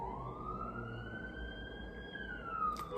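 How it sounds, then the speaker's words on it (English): An ambulance siren wails in a slow rising and falling sweep. It sounds faint and distant, steady over low background noise. "It's an ambulance."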